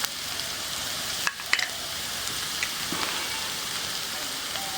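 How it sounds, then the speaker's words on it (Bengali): Food being lightly fried in a pan for a Bengali dish gives off a steady, moderate sizzle with a few sharp stirring scrapes, and no talking. "হালকা একটু ভাজা ভাজা করছি।"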